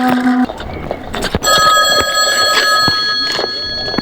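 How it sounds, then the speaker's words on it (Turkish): A telephone rings during play of the horror video game Eyes, giving a bright electronic tone that starts partway through. It sits over a busy, noisy background of game sounds and clatter. "telefon çalıyor"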